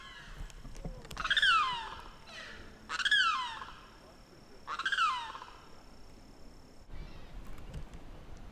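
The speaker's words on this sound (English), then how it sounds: "Whoa, that was a really loud bird." Loud bird calls at Paynes Prairie Preserve State Park in Florida: three strong, harsh descending cries a second or two apart, close and carrying, then a softer rustle, with no one speaking.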